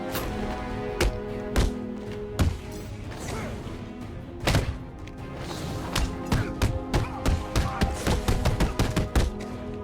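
Gunfire in Batman: Arkham City erupts in sharp, separate shots and cracks, with bursts growing denser toward the end, amid combat thumps and game background noise.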